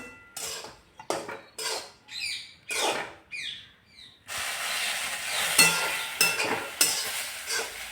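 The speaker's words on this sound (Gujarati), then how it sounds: "અને આ બાજુ આપણું ગરમ કરેલું દૂધ એ આપણે નાખી દઈશું" Heated milk poured into a pan of coconut sweet mixture (kopra pak) on a low flame. A run of short stirring scrapes and clinks gives way to a steady, bright sizzle that swells as the milk goes in.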